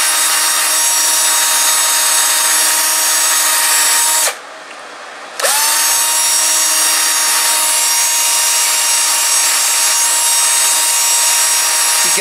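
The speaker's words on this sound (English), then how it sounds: "So we're going to sand the surfaces." A power sander works over the wooden surfaces of a Halloween decoration, a steady, loud grinding hum that cuts out for about a second midway and then starts up again.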